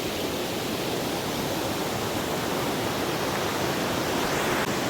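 Tat Ton waterfall in Chaiyaphum, Thailand, roars as a steady, dense broadband rush of falling water, constant and loud throughout with no voices.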